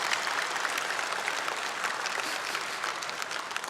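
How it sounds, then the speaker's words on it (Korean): A church congregation applauds during an early-morning prayer meeting, a steady wash of many hands clapping that continues evenly from start to finish. "박수라도 한번 쳐주시면 감사하죠."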